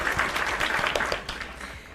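An audience claps and applauds for a guest at the start of a live show, a dense burst of clapping that gradually thins out and fades.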